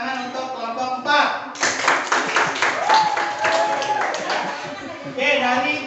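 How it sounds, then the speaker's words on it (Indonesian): A classroom group applauds for group 4, a burst of close, uneven handclaps that rises after a voice speaks and is mixed with talk. "tepuk tangan untuk kelompok 4"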